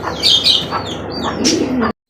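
White grizzle pigeons cooing up close, several soft rolling coos and a few chirps over about two seconds, fairly loud, with a brief silence at the end.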